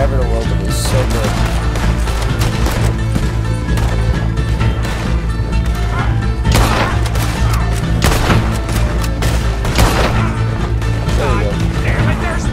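Rifle gunfire in the video game Red Dead Redemption 2, sharp shots cutting through a loud, dense game soundtrack of music and effects, with a player talking over it.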